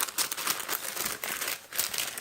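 A small plastic bag crinkles and rustles as it is handled close up, with quick irregular bursts of crackling over a few seconds.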